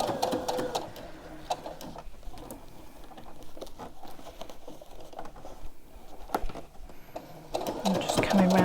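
A sewing machine stitches fabric for a memory bear in quick rapid patters, stopping and starting in short runs, close and fairly quiet, with someone speaking throughout.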